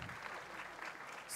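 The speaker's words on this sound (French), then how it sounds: "Que je vous demande d'applaudir encore plus fort." Audience at a Nigerien football awards ceremony applauds, a brief continuous wash of clapping lasting just over a second at moderate, slightly distant level.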